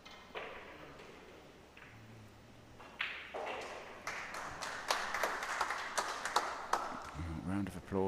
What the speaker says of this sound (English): Round of applause right next to me